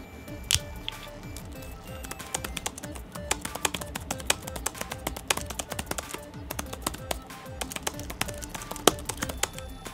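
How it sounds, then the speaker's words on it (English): Quiet typing on a Razer Turret lapboard keyboard: a continuous stream of soft, rapid, close-up keystrokes with muted clicks and a few sharper taps, steady throughout with no talk. "of course I'll let you listen to me using it"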